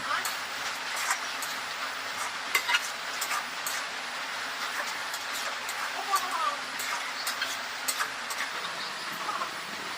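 Cow tripe (bhuri) sizzles and gets stirred in a pot during Eid cooking, a steady frying hiss with scattered scraping ticks of the spoon, moderately loud and close throughout.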